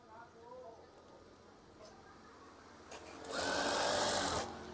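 Sewing machine stitching a crab eye curtain, running in one loud, steady burst of about a second and a half near the end after quieter handling noise, with a voice briefly talking.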